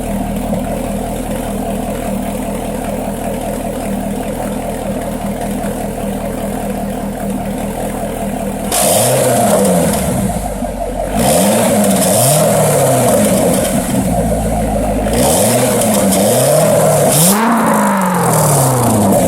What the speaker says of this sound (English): let me get an exhaust clip for you guys.